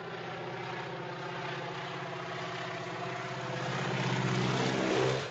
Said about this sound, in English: he is literally attacked by the plane.